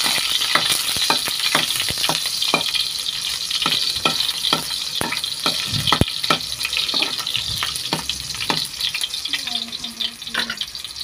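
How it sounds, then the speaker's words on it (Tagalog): Garlic and onion fry in hot oil with a constant crackling sizzle, punctuated by frequent sharp clacks of a utensil stirring against the pan, close and busy throughout. "ilagay na natin tong bawang at sibuyas mga kaidol"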